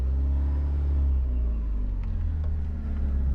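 An abandoned Porsche 944 that sat for years drives slowly. Its engine gives a loud, close, low rumble that stays steady for about three seconds.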